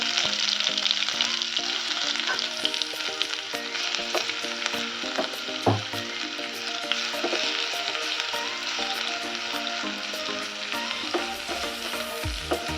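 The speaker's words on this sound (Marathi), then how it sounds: "तेल तापायला आले हे बघा त्यात टाकूया आपण थोडे जिरे आणि थोडे मोहरी" Cumin and mustard seeds sizzle in hot oil for a tempering, with a steady close frying hiss and scattered small pops and crackles throughout; no voice is heard.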